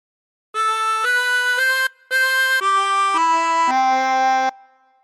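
Chromatic harmonica plays a Star Spangled Banner phrase as a run of clean sustained notes stepping down in pitch, with one brief pause, near and solo with no talking.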